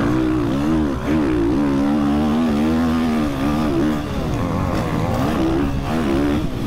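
A quad engine revs hard on a motocross track, its buzzy note rising and falling in quick throttle surges, loud and close throughout.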